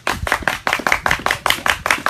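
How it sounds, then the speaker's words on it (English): A small studio audience clapping at a brisk, even rhythm, close and loud, with no voices over it for about two seconds. "Big round of applause from our studio audience."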